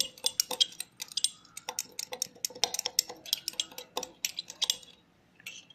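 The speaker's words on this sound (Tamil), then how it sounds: "அப்புறம் லெமன் ஜூஸ் ஊத்திக்கோங்க. கொஞ்சம் நல்லா மிக்ஸ் பண்ணிக்கோங்க." A spoon stirs lemon juice into a mojito mixture in a glass, a quick run of bright close clinks and ticks against the sides that stops near the end, with no talk.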